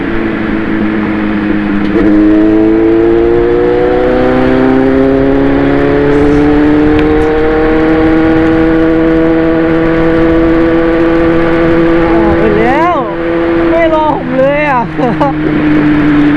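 A Honda CBR 500 motorcycle engine drones steadily nearby, its pitch rising as it revs, then falling away as it passes, with wind rush underneath.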